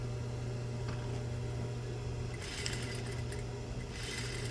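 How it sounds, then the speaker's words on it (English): Sewing machine re-stitching the loose edge of a fake welt pocket, a steady mechanical hum with brief faster stitching bursts, close and fairly quiet, no talking. "I'm going to have to re-sew that part that came loose"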